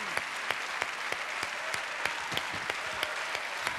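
An audience claps for Loredana Bertè, a dense and steady patter of many hands with a few sharper slaps standing out, heard at moderate distance.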